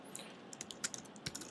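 Typing a WordPress blog post on a computer keyboard: a short, quick, uneven run of soft, close key clicks at fairly low volume.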